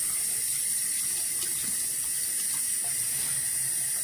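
Water runs steadily from a bathroom tap into a sink while makeup is rinsed off, a continuous close splashing hiss with no talking.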